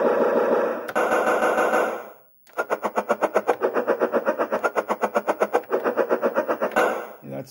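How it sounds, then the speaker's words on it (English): A machine-gun sound effect being tested, a rapid loud stream of evenly spaced bursts that runs for several seconds after a short break, with an earlier dense burst at the start. "Machine gun."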